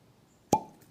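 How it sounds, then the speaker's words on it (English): Cork pulled from a bottle of Wolcott bottled-in-bond bourbon, giving a single crisp, close pop with a short resonant ring afterward in a quiet room. "That was a great cork pop."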